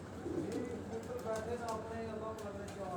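A black-faced pigeon coos softly at a household loft, its low murmuring calls running steadily under a voice.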